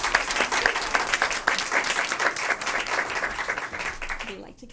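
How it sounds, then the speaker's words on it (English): Sustained audience applause fills a school board meeting room, steady clapping from a crowd honoring two schools, tapering off at the end. "Please join us in another round of applause for both schools."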